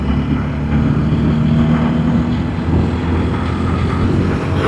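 A motorcycle cruising at around 70, captured by a DJI Mic Mini fitted on the rider's helmet, produces a loud, continuous roar of wind and engine that stays steady and unbroken throughout.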